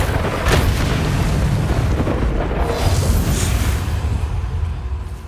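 A Bombarda spell explosion in the video game Hogwarts Legacy sounds as a loud, rumbling blast that swells and then decays into a dense roar lasting several seconds.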